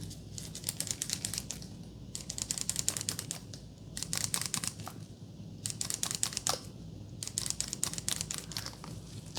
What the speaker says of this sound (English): It's a manual shaver.